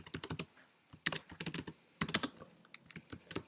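Rapid typing on a computer keyboard while entering a diagram name, crisp close clicks in quick bursts separated by brief pauses, with no one speaking.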